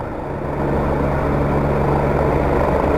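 A rescue helicopter hovers during a stretcher rescue, its loud, steady rotor thump and engine drone filling the air continuously.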